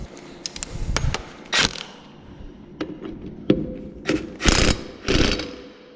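Impact gun working on the rear axle nut of a Packard, heard as several short, loud ratcheting bursts at irregular intervals with quieter mechanical clatter between them.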